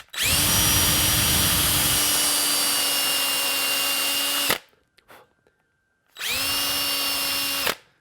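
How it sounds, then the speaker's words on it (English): A power drill with a bit boring into the end of a bamboo arrow shaft gives a loud, steady whine for several seconds, stops briefly, then whirs again in a second shorter burst. "drill out the end of this shaft"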